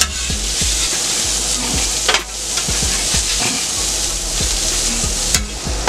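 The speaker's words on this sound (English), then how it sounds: "my potatoes are cooking up nicely" Potatoes and mushrooms frying on a Steelmade USA pan or griddle, a steady close sizzle broken by repeated scraping and stirring knocks from a utensil.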